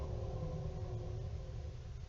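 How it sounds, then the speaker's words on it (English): Sleeping monster sound effect from a Homestuck Flash animation: a steady low rumbling drone, continuous and fairly quiet, with no talking. "Oh, it's the sound of his denizens sleeping."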